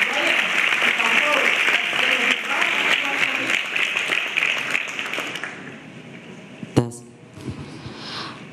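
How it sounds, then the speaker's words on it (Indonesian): A dense crowd applauds at an event with Pope Francis in Jakarta, welcoming a teenage boy. The clapping is loud and steady for several seconds, then fades as a voice begins speaking. "kita undang dengan tepuk tangan dulu"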